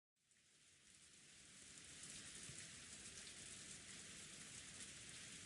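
Falling rain from the Umineko visual novel, a soft hiss that fades in quickly and then holds as an even, continuous downpour with no other sounds.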